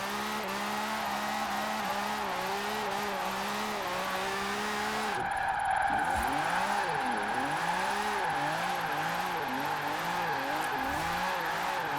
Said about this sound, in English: Could be a Lamborghini engine.